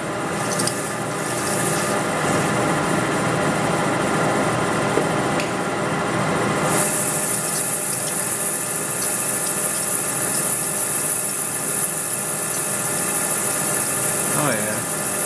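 Metal cutting on a lathe working 642 aluminum bronze for a handwheel spacer, a steady grinding, rubbing machine noise that holds throughout, with bright high-pitched cutting hiss joining midway.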